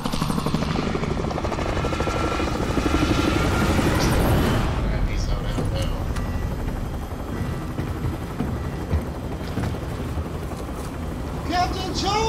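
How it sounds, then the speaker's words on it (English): An aircraft engine drones in the battle royale game Call of Duty Warzone, a loud steady roar with a rhythmic rotor-like flutter that holds for the whole stretch, with someone talking over it. "Jumping out of airplanes."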